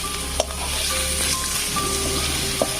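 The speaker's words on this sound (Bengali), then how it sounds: "এদিকে সরষের তেল গরম হয়ে গেছে, দিয়ে দিচ্ছি পেঁয়াজটি। এদিকে পেঁয়াজটি সুন্দর করে ভেজে নিচ্ছি।" Chopped onions fry in hot mustard oil with a steady, close sizzle. Light stirring clinks from the pan break in a few times, and no voices are heard.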